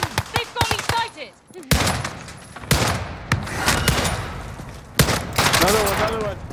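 Enemy gunfire in Call of Duty Warzone, rapid cracking shots and short automatic bursts, loud and close, mixed with frantic talk.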